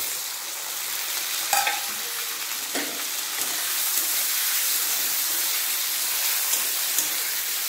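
Chopped tomato hits a pan of already fried onion, ginger and garlic, breaking into a steady bright sizzle with a couple of sharp clinks of a utensil near the start, continuing evenly up close.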